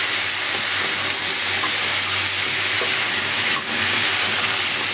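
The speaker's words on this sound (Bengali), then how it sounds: "আমি আর একটু ভেজে নেব" Garlic and onion sizzling with duck in a hot pan, a steady close frying hiss with occasional stirring scrapes, no talking.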